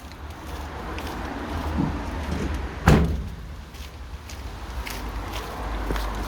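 A Vauxhall Movano van door shuts with a single sharp thud, and softer clicks and shuffling follow against faint outdoor wind.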